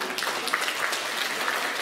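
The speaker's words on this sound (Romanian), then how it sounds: "vreau, preotul dumneavoastră, să le aplaudăm încă o dată" Audience applauding at a village concert event in Pătrăuții de Sus, a short, dense burst of steady clapping from a crowd with no talk over it.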